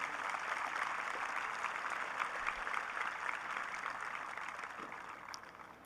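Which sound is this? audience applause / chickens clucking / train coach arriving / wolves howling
audience applause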